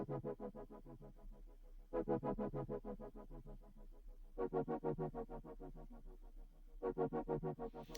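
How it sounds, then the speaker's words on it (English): A soft synth pad pulses in quick repeated chords, swelling in louder bursts every couple of seconds, fairly quiet and with no voices. "the fast pad happened to sound like this"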